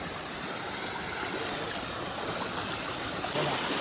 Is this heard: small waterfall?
yes